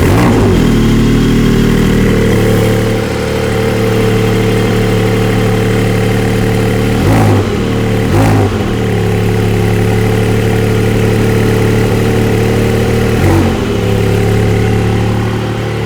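A 2021 Porsche 718 Cayman GT4 engine runs loud and close throughout, settling into a steady idle broken by several sharp throttle blips near the middle and once more toward the end, with no talking.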